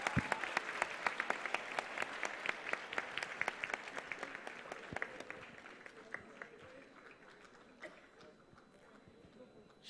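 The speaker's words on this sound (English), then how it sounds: "A round of applause for our lady neurosurgeon Akshohini Garg" Sustained audience clapping at a convocation ceremony, a steady crisp patter with distinct sharp claps standing out, holding for several seconds before slowly thinning as the crowd settles.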